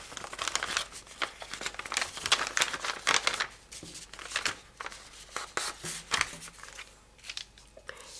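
Paper creased repeatedly into mountain folds while making an origami box and lid, a close, steady series of crisp crinkles and sharp creasing snaps with no talking.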